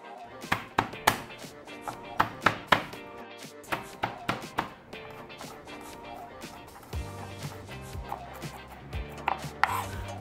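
A knife chops mushrooms with their stems on a cutting board in a home kitchen, making a string of sharp, close taps in uneven bursts, followed by a short quieter stretch of handling sounds.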